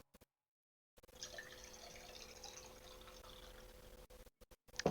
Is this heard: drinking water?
yes